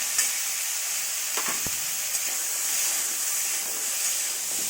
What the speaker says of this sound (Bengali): এটা হালকা ভাজা হোক,